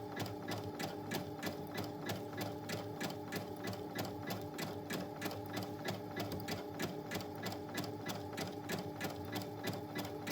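A sewing machine runs a steady zigzag stitch joining two pieces of quilt batting, its needle ticking in an even, rapid rhythm that stays close and constant throughout, with no talking.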